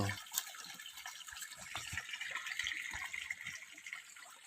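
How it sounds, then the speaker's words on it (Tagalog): Strong water flows and gushes continuously, a steady rushing splash heard at moderate distance with no talking. "Lakas pa rin po yung tubig."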